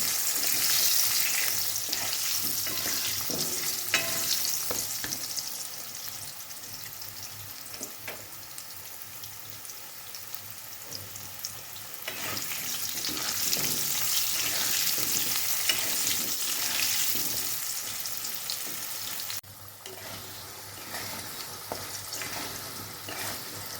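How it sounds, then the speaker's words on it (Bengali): Potatoes seasoned with a little salt and turmeric fry in hot oil for a pure vegetarian dish, giving a steady close sizzle with occasional stirring scrapes throughout. "এবার আমি আলুগুলো ভালো করে লাল লাল করে ভেজে নেব।"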